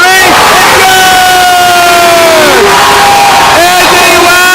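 A home crowd roaring and cheering after a big three-pointer at a Lansdale Catholic versus LaSalle College high school basketball game, loud and saturated, with sustained whoops and shouted voices rising and falling in waves.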